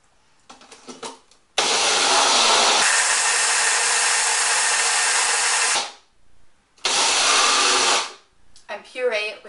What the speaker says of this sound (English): And puree it with our mixer.